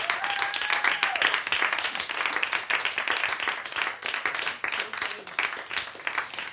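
Studio audience applauding a jazz band on a radio broadcast, a dense, steady wash of many hands clapping close by for several seconds, with some voices mixed in.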